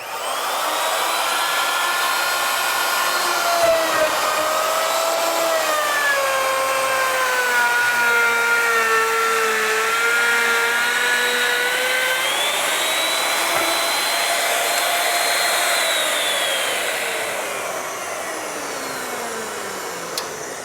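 A saw-router combo machine plunges into a panel and cuts a stop dado, giving a continuous loud whirring roar whose pitch slowly wavers and drops toward the end as the bit eases away.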